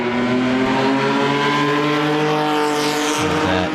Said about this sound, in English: there is the Erdos and Monteverde Ford GT40 again